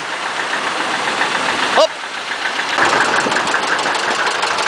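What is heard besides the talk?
bus engine passing at parade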